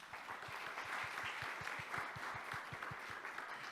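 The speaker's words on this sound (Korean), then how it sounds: "여러분 다시 한번 박수 부탁드립니다" An audience at a Korean international forum session claps in steady, sustained applause for about four seconds, a dense even patter with no voices over it.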